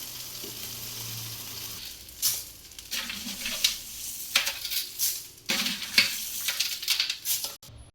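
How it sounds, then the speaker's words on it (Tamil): Dried red chillies tossed with a handful of salt while roasting in castor oil in a pan, heard as dry rattling and scraping stirs with faint sizzling in uneven bursts, up close and without speech. "ஒரு கை உப்பு அதையும் போட்டு மிளகாய் உள்ளே கொட்டி அப்படியே வறுத்துடலாம்"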